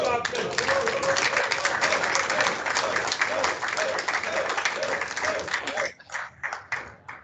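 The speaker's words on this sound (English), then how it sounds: "let's give him a good round of applause." Round of applause from participants on a UAW chaplaincy conference call, steady dense clapping with a constant tone through most of it, then thinning into a few scattered claps at the end.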